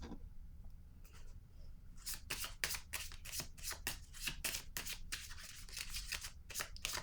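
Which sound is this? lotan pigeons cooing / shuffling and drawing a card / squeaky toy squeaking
shuffling and drawing a card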